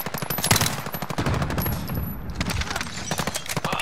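Rapid automatic gunfire in a multiplayer shooter video game, team deathmatch, with dense repeated bursts running nearly the whole time, loud and close with brief pauses between volleys.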